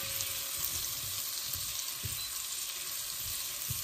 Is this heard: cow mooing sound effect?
no